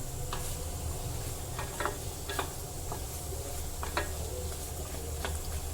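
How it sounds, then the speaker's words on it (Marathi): Peas and potatoes stir-fried in a pan over a high flame, with a steady sizzle and scattered scraping ticks of a ladle stirring the vegetables, close and moderately loud with no talking. "गॅस हाय फ्लेमवर करायचा आहे दोन ते तीन मिनटं मटार आणि बटाटा चांगला परतून घ्यायचा आहे"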